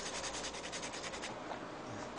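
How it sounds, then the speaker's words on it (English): Sandpaper rubbing a wooden stick into a point, a steady rhythmic scraping of quick back-and-forth strokes, close and fairly quiet with no talking. "just kind of sand them into a point"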